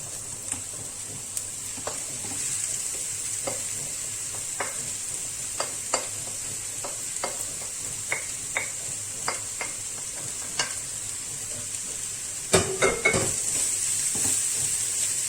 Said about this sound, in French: je vais rajouter mes courgettes au reste des légumes